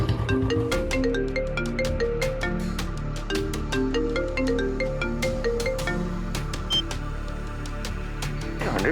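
A melodic phone ringtone plays continuously in a repeating electronic pattern with sharp clicky accents, loud and close, with no talking.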